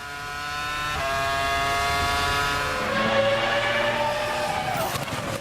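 A 2002 Formula 1 car driven by Barrichello passes on track, a high whining engine note that swells and sweeps down in pitch as it goes by, with a commentator talking over it.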